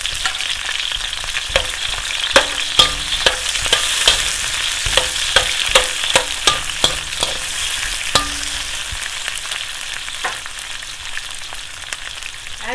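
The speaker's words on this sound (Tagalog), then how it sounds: "Add na natin yung garlic or bawang. Add na natin yung sibuyas or onion." Garlic and onion for pinakbet fry in a hot pan with a steady, close sizzle, broken by repeated sharp clicks and scrapes of stirring throughout.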